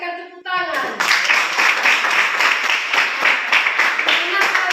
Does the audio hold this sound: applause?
yes